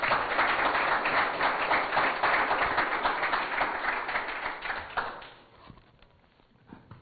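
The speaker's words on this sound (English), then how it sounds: "Round of applause for him." Audience applause for a startup pitch at a Silicon Valley event in Oxford, a steady burst of clapping that fades out after about five seconds into quiet room sound.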